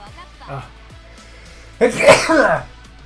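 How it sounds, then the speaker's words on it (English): A single loud, close sneeze bursts out after a stretch of quiet game sounds and faint talking, breaking off into a short trailing exhale. "I'm just sneezing."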